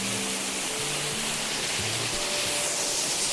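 Twin waterfall cascades crash and splash onto rocks in a dense, continuous close roar of white water that fills the whole moment without pause.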